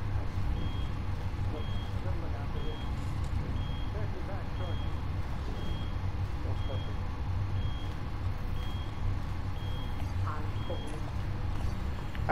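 A steady, evenly spaced electronic alarm beeps in a video game, repeating at a regular pace under continuous low rumbling background noise.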